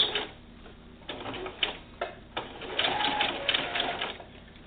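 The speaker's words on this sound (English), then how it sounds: "Do a couple of back stitches." A sewing machine back stitching at the corner of a mitered quilt border, giving short bursts of rapid mechanical ticking and whirring, close and moderately quiet, stopping and starting a few times.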